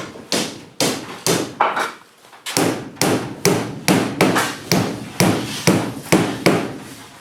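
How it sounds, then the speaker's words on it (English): Repeated solid hammer blows while a door lock is fitted during house construction in the Philippines, about a dozen close, loud strikes in a fairly regular rhythm, each with a short ringing decay, no talking. "Difficult use of the hammer there."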